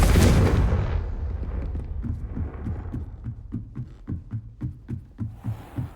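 In the Hogwarts Legacy video game, a Confringo spell explodes with a loud opening blast that decays quickly, followed by a run of short rhythmic thumps like debris or footsteps.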